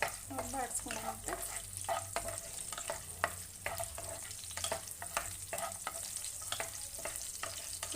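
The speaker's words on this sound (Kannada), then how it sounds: "ಒಂದು 4-5 ಎಸಳು ಬೆಳ್ಳುಳ್ಳಿ ಹಾಕ್ತೀನಿ. ನೋಡಿ, ಇದೊಂದು ಸ್ವಲ್ಪ ಎಣ್ಣೆಯಲ್ಲಿ ಬಾಡಿಸ್ಕೊಂಡಂತೆ." Four or five garlic cloves sauté in a little oil, a dense continuous sizzle broken by frequent scraping stirs of a spatula in the pan, close up with no talking.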